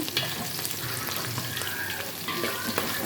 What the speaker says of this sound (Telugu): ఉల్లిపాయలని చిన్నవి పెద్దవి కట్ చేసాం, అందుకని చిన్నగా ఉన్నాయేమో త్వరగా వేగినాయి, ఇంకా ఇవి వేగలుతున్నాయి